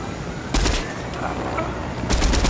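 Bursts of video game gunfire in a helicopter fight, with two loud volleys of rapid shots, one early and one near the end, over steady game noise and rumble.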